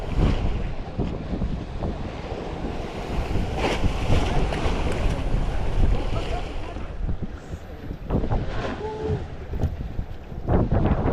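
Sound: strong wind at sea

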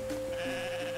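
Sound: goat bleating in the video game Roots of Pacha

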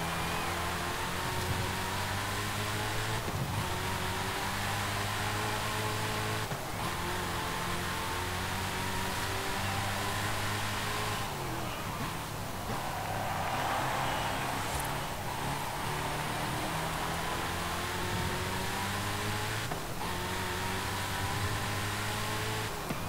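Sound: Saleen S7 LM twin-turbo 7-litre V8 engine, Forza Horizon 5 video game

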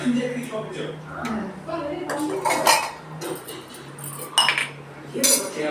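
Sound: spoon clinking while stirring coffee in a cup

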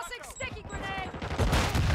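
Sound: grenade explosion in video game Call of Duty MW2

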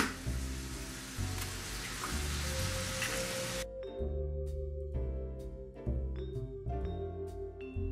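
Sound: chopped bacon frying in a pan

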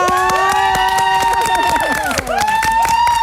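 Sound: audience clapping and cheering

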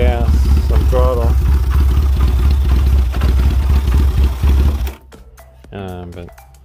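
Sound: Chinese 250cc ATV engine revving with throttle

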